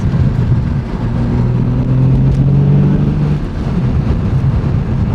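A BMW G80 M3 with a manual gearbox drives along, its engine a steady close drone with a low rumbling hum that rises briefly in pitch and then settles, no talk over it.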